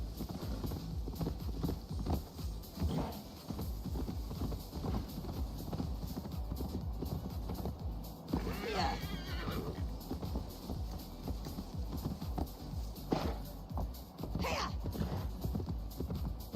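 Horse in Assassin's Creed Valhalla moving at a steady clip-clop of hooves over a constant game backdrop, with a couple of short whinnies breaking through near the middle and again toward the end.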